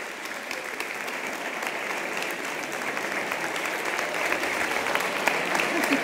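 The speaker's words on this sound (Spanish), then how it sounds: "los recibimos con un fuerte aplauso" Sustained applause from an audience at a regional folk festival stage, dense steady clapping that holds throughout and swells slightly toward the end.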